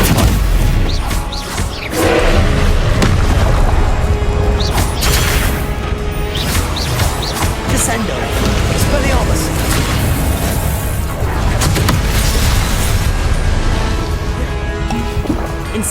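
The Stupefy spell cast in the video game Hogwarts Legacy comes through as loud magical blasts, booms and crashing impacts in a dense, continuous battle mix, with a voice present throughout.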